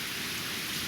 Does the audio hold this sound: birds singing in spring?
no